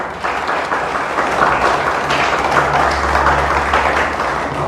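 A church congregation applauds during a sermon, a steady, loud wash of many hands clapping together without pause.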